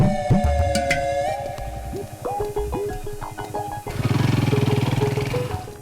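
A motorcycle sputters and catches after a few attempts, then its engine revs up louder and steadier as it pulls away, heard close and fairly loud, with a brief mechanical clunk before the sustained roar.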